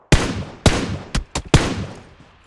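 Five sharp gunshots from PUBG Mobile ring out at uneven intervals, loud and close, each with a short reverberant tail, the last two fired in quick succession before a final shot.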